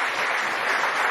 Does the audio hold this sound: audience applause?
yes